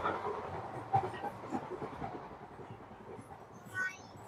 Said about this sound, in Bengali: এই ট্রেনটা অনেক বেশি কাঁপতেছে।